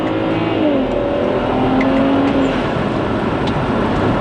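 A 500 hp 2008 BMW 335i accelerates hard in second gear, its engine note climbing loudly over a steady road roar, heard from inside the car with no talking.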